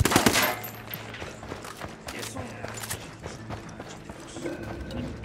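Video game gunfire opens with a loud burst of rapid shots, then continues as scattered, quieter shots and mechanical clatter.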